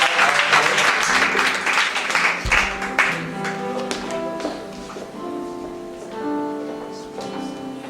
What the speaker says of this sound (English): Shall we clap our hands unto the Lord?